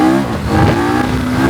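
A KTM 1390 Super Adventure S Evo motorcycle accelerating hard, a loud close engine roar with a rising, revving tone and no talk over it.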